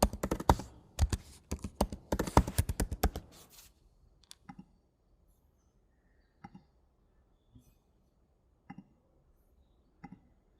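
Fast, close typing on a computer keyboard in quick bursts for about four seconds, then a quiet stretch broken by a few isolated key clicks, with no voices.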